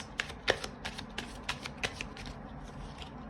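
Tarot cards shuffled by hand in short, crisp riffling bursts, about eight quick rustles spaced unevenly across a few quiet seconds, close and alone with no talking.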